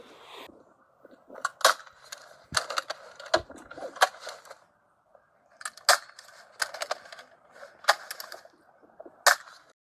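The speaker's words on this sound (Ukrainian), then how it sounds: "Веду стрільбу з воздушки дистанція до цілі 50 метрів." Air rifle shots fired at a target 50 metres away, a series of sharp close cracks spread irregularly across the stretch with brief pauses between, no talking.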